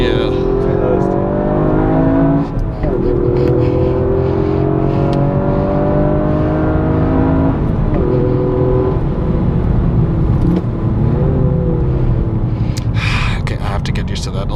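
Toyota Yaris race car on a track, its engine droning loudly and continuously as it accelerates, with a few shifts where the revs dip before climbing again.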